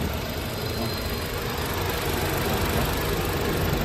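Honda City with a 1.3-liter gasoline engine idling, a steady, even broadband drone with a low rumble that holds constant throughout, close and moderately loud with no talking.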